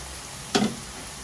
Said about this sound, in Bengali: হালকা গরমে প্রথমে ফ্রাই করে নেব।